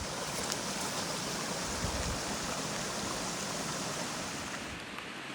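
Cache Creek in Oregon flows in a steady, loud broadband rush of moving water, close and continuous with no voices.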